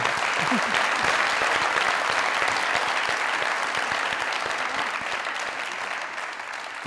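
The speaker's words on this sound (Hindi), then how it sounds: "तालियां।" Studio audience applause on a comedy talk show, a dense, sustained roar of many hands clapping, steady and full, tapering slightly near the end with faint voices mixed in.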